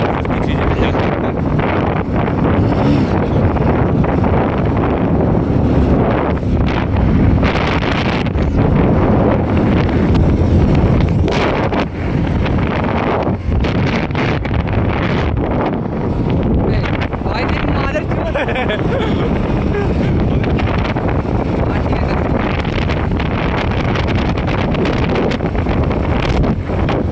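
Strong, steady wind gusting across the microphone outdoors, a loud continuous rushing roar with buffeting low-end rumble lasting throughout, without a break.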